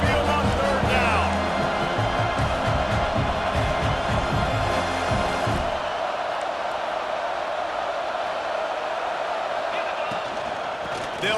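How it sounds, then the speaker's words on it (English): Stadium crowd noise rolls through Saban Field in EA Sports College Football 26, a loud continuous roar with music and rhythmic chanting at first, then a steady crowd wash that continues to the end. "The Tide crowd rolling noise down onto Saban Field on 3rd down."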